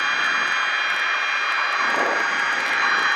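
Continuous engine drone of a light airplane in flight during stall practice, loud and steady inside the cabin, with a faint intermittent warning tone and no talking.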